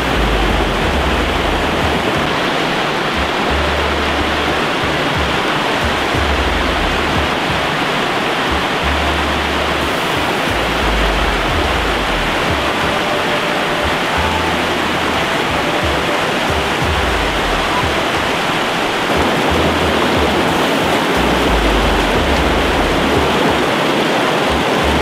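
Water rushes over a waterfall at the Potto Beck fish pass in a loud, continuous roar, with a low rumble pulsing underneath and no voices.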